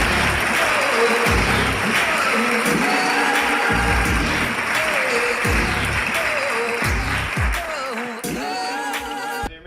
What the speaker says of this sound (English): So give a warm round of applause.